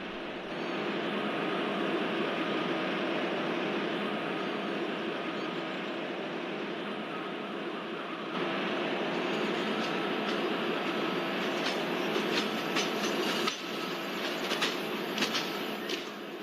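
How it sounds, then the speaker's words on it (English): The Kanyakumari Express hauls up a gradient on the Guntakal–Pakala route, giving a continuous heavy rumble and roar of the train in motion, with faint rhythmic wheel clicks growing more noticeable toward the end. "As we can see that our train is climbing a gradient."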